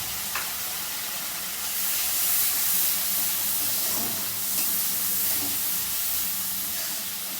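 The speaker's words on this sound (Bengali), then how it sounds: "আমি মশলাটাকে ভালো করে কষিয়ে নেব কাঁচা গন্ধ চলে যাওয়া পর্যন্ত" Spices with salt and turmeric sizzle in a pan as they are sautéed, a moderate continuous hiss that swells slightly with occasional stirring scrapes.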